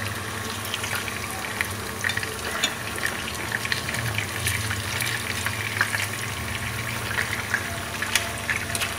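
Oil sizzles steadily as Vietnamese spring rolls coated in panko breadcrumbs fry, a dense crackling hiss with small pops throughout, close by and fairly constant.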